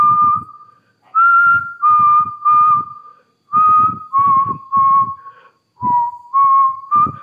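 A person whistles a slow tune close by inside an abandoned villa, a string of sustained notes in short phrases with brief pauses between them.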